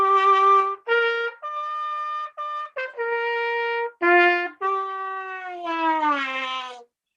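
Trumpet played to imitate an instrument with holes in the side, giving a series of held, wavering notes with bends and slides, ending in a rising, wobbling lip-bent tone; close and fairly loud, without speech.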